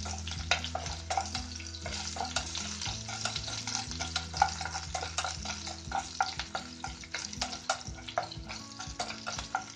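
Sliced onions sauté in a pan for a tomato curry, giving a steady close sizzle mixed with frequent scraping and stirring knocks throughout.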